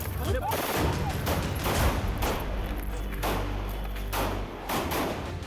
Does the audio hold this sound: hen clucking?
no